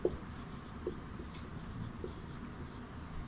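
Faint, steady scratching of headings being written on a board in a classroom, soft continuous strokes with a few light taps, alone without talk.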